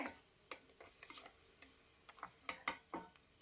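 Cooked mutton being stirred and broken apart in a pan, with soft scraping and clinking of a utensil in sparse, irregular strokes, quiet and close.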